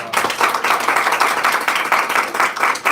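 A church congregation claps together at a worship gathering, a loud, dense burst of many hands with a slightly pulsing rhythm, heard up close with no voices.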